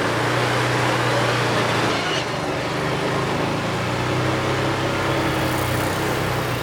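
Argo Conquest 8x8 all-terrain vehicle accelerating through a turn, a loud continuous engine drone with broadband wind and terrain rumble, the engine note shifting partway as throttle is applied.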